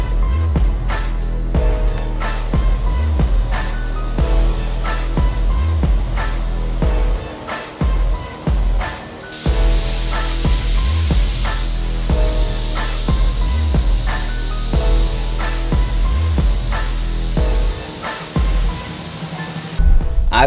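A Karcher K2 pressure washer sprays a wall with a loud, continuous hissing blast close by, with rhythmic thumping pulses of a motor underneath throughout.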